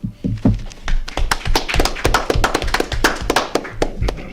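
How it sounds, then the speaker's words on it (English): A group at a Sabbath service class claps hands in quick, uneven bursts, many sharp claps overlapping close by with no talking. "clap it up."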